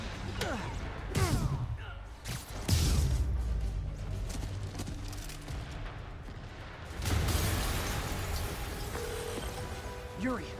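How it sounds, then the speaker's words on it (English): Explosions boom in the Spider-Man video game, a few heavy blasts with rumbling debris spread across the scene, loud and near, amid ongoing game noise and occasional voices. "an explosion just..."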